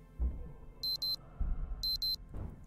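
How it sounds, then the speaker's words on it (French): Alarm clock ringing in the Project Zomboid video game, two pairs of short electronic beep bursts about a second apart, over low thumping background game noise. "Arrête l'alarme."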